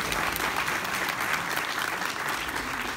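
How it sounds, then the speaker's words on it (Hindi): A crowd of member guests applauds at a film event for a Pakistani 3D animated feature, dense continuous clapping sustained at an even, fairly loud level throughout, with no speech over it. "पहले तो तालियां होनी चाहिए सारे मेंबर भाई"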